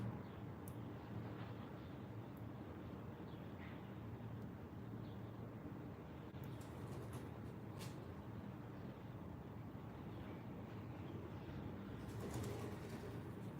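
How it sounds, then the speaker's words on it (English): Pigeons cooing outdoors under a steady bed of ambient noise, soft and continuous with no clear separate calls standing out, faint distant traffic or aircraft rumble mixed in. "Oh my god, there's so many like pigeons here."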